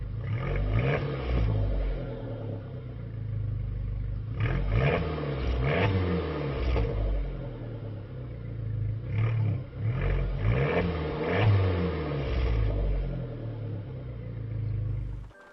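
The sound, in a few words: Fiat 500 Abarth engine and exhaust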